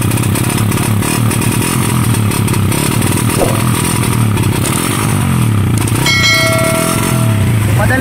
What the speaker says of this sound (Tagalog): Ayan ang tunog oh, tambutso oh.